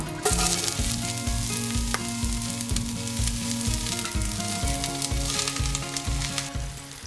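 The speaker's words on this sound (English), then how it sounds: "all of this is going to go into the pan and saute until golden brown" A leek and white bean mixture sautés in a pan, giving a steady, close sizzle with crackling pops throughout and no voices.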